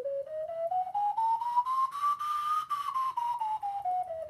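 A pure, breathy ocarina tone glides smoothly up in pitch and then drifts back down, held steadily for about four seconds with nothing else heard.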